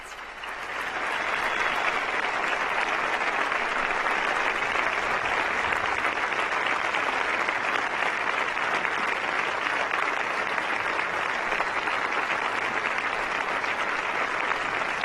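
Large outdoor crowd applauding after a papal address during an apostolic journey in Portugal, a dense, steady roar of clapping that swells in and holds at full strength throughout.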